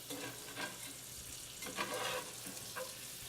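Food frying in a skillet, a steady close sizzle broken by several short scrapes and stirs of a spatula against the pan bottom, fairly quiet.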